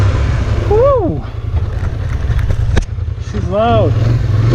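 A 2020 Polaris Scrambler ATV engine revs loud and close in two rising-and-falling bursts over a steady low idle rumble, with wind buffeting the microphone throughout.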